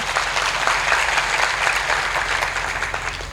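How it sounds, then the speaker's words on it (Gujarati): Audience at a parents' guidance seminar gives a steady, loud round of applause, dense clapping sustained throughout without pause. "એને એક વખત જોરદાર તાળીથી વધાવીએ"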